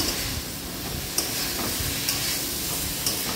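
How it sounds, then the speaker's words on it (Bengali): Fried green banana fritters for kanchkola kofta added to a spice gravy, giving a steady loud sizzling hiss with a few faint stirring clicks throughout. "এবার ভাজা হয়ে গেলে বড়াগুলো ছেড়ে দেব।"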